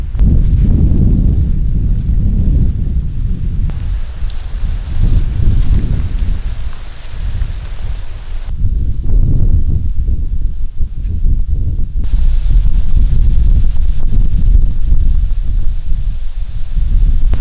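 Strong wind buffets the microphone in a steady low roar, gusting continuously throughout with no voices.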